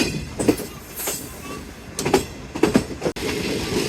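A train runs along the Green Line railway in Pakistan with continuous rumbling rail noise and irregular clickety-clack wheel beats, heard from close by.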